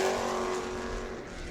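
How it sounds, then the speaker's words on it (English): Sportsman race car crossing the finish line on a qualifying lap at New Smyrna, a steady loud engine drone passing close and fading slightly, with no voices. "And here comes Jeff Schofield to the checker"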